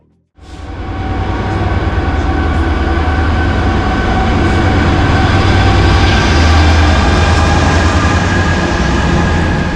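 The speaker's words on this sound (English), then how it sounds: "we're now taking a look at the arrival of my train at Southampton Central" A British Rail Class 166 diesel train arrives at Southampton Central, rumbling loudly and steadily close by, engine drone with a bright whine on top, starting abruptly and continuing without pause.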